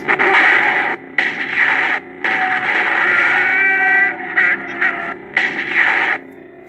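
Loud electronic lightsaber blaster-deflect zaps and sizzling bursts fire in a quick series, five or six blasts separated by brief silences, with no voices.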